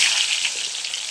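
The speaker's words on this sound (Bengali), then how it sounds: "এখন আমি আলুটা একটু ভেজে নেব এবং খুব ভালো করেই ভাজবো আলুটা।" Potatoes frying in a pan for a potato rezala, giving a steady, bright sizzling hiss that stays even and close for a brief moment with no talking.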